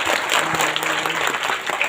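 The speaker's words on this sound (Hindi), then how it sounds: "मैं चाहूंगा एक बार ताली बजाना चाहिए" An audience at a speech event breaks into loud, dense applause, many hands clapping continuously and evenly throughout.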